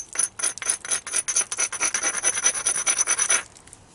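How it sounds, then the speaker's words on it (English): A hand stone grinds along the edge of a novaculite flake during flint knapping, giving a rapid run of about twenty close, raspy scraping strokes over three seconds before stopping. "So I'm going to grind it."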